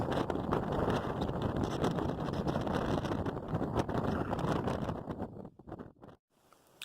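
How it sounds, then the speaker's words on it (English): Strong, roaring wind gusts of about 40 mph buffet the microphone in continuous heavy blasts on a high-elevation Appalachian Trail section, then drop away briefly near the end before picking up again. "These are probably about 40-mile-per-hour wind gusts."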